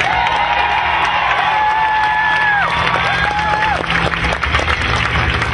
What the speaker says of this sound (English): deserves a loud applause